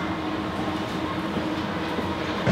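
A Seoul subway train rumbles along the rails in a steady, moderately loud wash of wheel and carriage noise, continuous from start to finish with a brief louder swell at the end.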